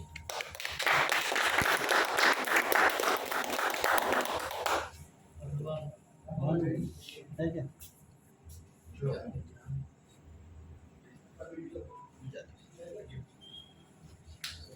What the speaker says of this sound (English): give a huge round of applause for Kaushal ji